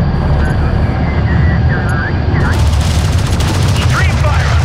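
A loud, continuous barrage of gunfire from armored vehicles in the video game Homeworld: Deserts of Kharak rattles over a roaring engine and aircraft drone, with radio-style voices talking over the combat.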